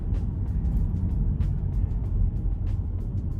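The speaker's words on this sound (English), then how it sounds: "Okay, so you still hear the hum of the engine." A low, steady motor hum fills the cabin of a 2025 Tesla Model Y while it drives in New York traffic, with faint ticks and thumps on top of it.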